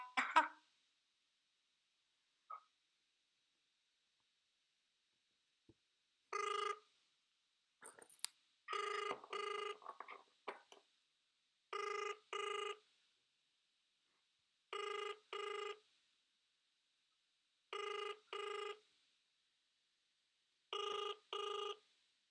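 A telephone rings in paired bursts, about six rings spaced evenly with silence between, going unanswered.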